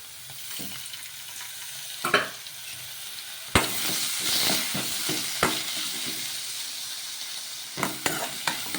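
Tomato, onion, green chilli and garlic sauté in a little oil, a continuous close sizzle broken by several sharp spatula clacks and stirring scrapes.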